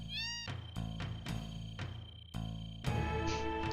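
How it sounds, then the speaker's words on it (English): Repeated cat meows from a cat being touched in Final Fantasy 7, several short tonal calls in quick succession at moderate loudness over a steady game background. "when you touch a cat, it meows"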